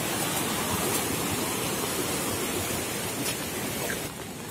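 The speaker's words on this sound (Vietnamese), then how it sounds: "những cái khe bé tí như này mà nước cũng rất là nhiều luôn" A flooded stream rushing hard beside a bridge, a dense, continuous roar of churning water like a waterfall, loud and unbroken for the whole stretch before easing slightly at the end, with no talking.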